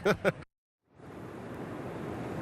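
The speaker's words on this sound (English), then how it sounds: "the gusts of wind, the rain coming down now." Two short thumps, a brief silence, then a steady, rushing roar of gusting wind and falling rain outdoors that continues loud and unbroken to the end.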